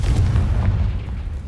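A Confringo fire spell bursts in Hogwarts Legacy, a loud deep boom with a rumbling low-end tail that fades over about a second and a half, with no talking over it.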